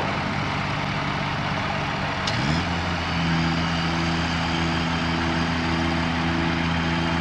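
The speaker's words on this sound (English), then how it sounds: "Dueling tractors." Two tractors running together at a woolshed building site, a heavy steady engine drone that deepens and settles into a lower, louder idle partway through.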